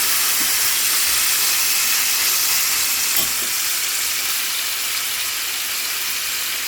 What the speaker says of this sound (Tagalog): Kailangan natin siyang lutuin na prito konti.